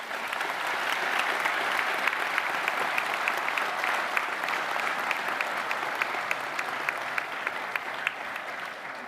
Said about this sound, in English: So I think they deserve some applause.